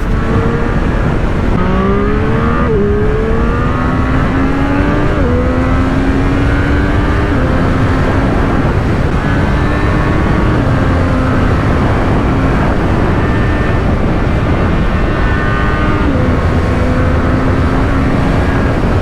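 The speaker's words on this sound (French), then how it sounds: "On chauffe un peu la moto." A Triumph Street Triple 765 motorcycle engine, warming up, revs and settles repeatedly, pitch rising and falling in steady pulls, close and loud with continuous road and wind noise.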